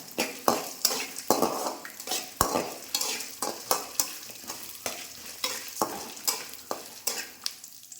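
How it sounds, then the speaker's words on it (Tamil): Ridge gourd peel sautéing in a pan for a Tamil peel chutney, a steady close sizzle broken by repeated sharp scrapes and clinks of a spoon stirring against the metal, with no voices. "கடுகு விடாத அளவுக்கு நல்லா இதை வதக்கி"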